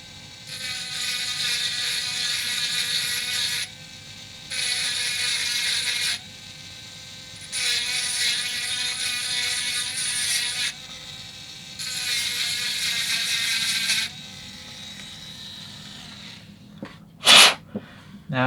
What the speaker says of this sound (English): I happen to have a little rotary tool with a diamond bit on it.